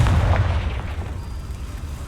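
A Confringo spell explosion in the video game Hogwarts Legacy, a loud boom at the start that fades into a rumbling tail over about two seconds, with no talking.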